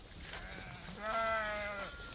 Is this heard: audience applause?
no